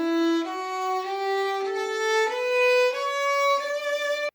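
A beginner's violin, bowed while fingers press the strings, steps upward through a slow ascending scale of sustained notes, each change a small clean pitch rise, close and alone.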